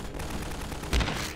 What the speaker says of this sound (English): Who? Who is shooting at me?